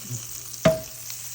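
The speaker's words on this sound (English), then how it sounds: "Let that sizzle just for" Butter gives a brief, bright sizzle that flares up at once and fades in a pan over a steady, quiet kitchen hum; a single close hiss with a faint metallic ring.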